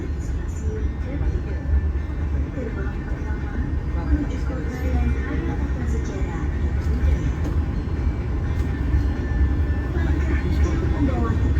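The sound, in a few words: commuter train with vintage locomotive passing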